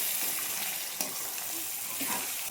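Tomato, turmeric, salt, chili powder and ground cumin paste being stir-fried in a pot for biryani, a soft steady sizzle with occasional scrapes and stirring knocks, faint and close.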